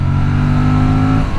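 An Aprilia RS 457 motorcycle revs hard at close range, a loud sustained engine note with strong low tones holding steady before dropping off slightly at the end as it shifts down, with no talking.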